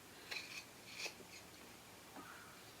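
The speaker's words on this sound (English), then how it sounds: "I'm going to take my scissors and I'm just going to cut off this excess" Scissors snip through excess fabric at the boxed corners of a fabric drawer organizer, a few quiet, crisp cuts near the start followed by soft rustling of cloth.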